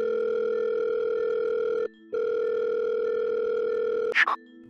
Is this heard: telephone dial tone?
yes